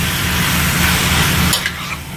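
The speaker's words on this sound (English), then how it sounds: "Get the pot sizzling there." Loud, steady sizzling of floured beef browning in a hot pot for Cajun beef stew, continuous and close, easing off briefly near the end.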